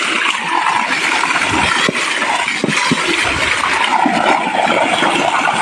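Strong, steady rush of water gushing at full force from a 3-inch delivery pipe of a solar-powered AC/DC open well pump, loud and close, continuous hiss and splatter throughout.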